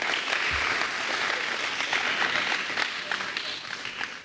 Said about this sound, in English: Applaud yourselves, ladies and gentlemen